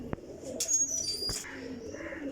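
A Teddy racing pigeon at a pigeon-flying game in Jhelum gives soft cooing calls close by, with faint chirps and a couple of sharp taps against a quiet outdoor background.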